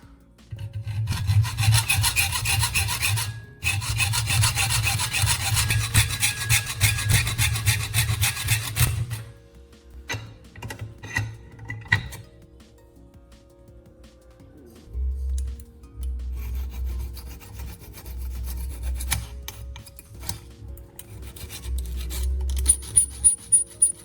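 File rasping a small notch near the tip of a homemade saw-tooth setting tool: close, loud back-and-forth strokes in long bursts, then short scrapes, light taps and a few clicks near the end.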